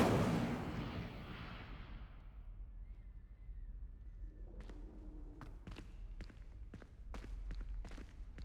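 Incendio fire spell cast in Hogwarts Legacy, a loud whooshing burst of flame that fades over about two seconds, followed by a scattered series of sharp, crackling pops and thuds.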